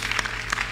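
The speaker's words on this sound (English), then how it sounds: "it's a good point to clap" Brief burst of audience clapping at a talk, moderately loud and lasting under a second.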